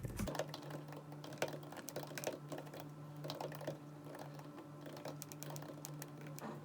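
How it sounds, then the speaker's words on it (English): Someone types on a computer keyboard, a quiet, steady patter of rapid key clicks with occasional heavier strokes over a faint background hum. "So let me type this here and show you how."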